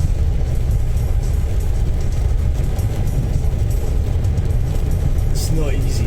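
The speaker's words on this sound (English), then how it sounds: "I quite like driving the Volkswagen T4" Noisy, steady cabin drone of a Volkswagen T4 van cruising on the M9 motorway near Edinburgh, a dense low roar with road hiss above and a brief higher whoosh near the end.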